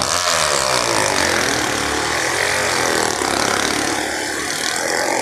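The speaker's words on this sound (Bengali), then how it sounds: "বাইক দুটো রাউন্ড ঘুরছে দেখো।" Two motorbikes circling inside a circus globe of death at a circus in Berhampore, giving a loud, continuous engine roar that swells and wavers as they loop round without a break.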